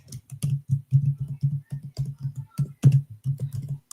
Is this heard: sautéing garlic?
no